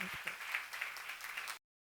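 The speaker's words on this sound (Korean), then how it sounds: "박수로 하나 돌리시면" Church congregation applauding together during a sermon, a dense wash of clapping that runs steadily for about a second and a half before cutting off abruptly.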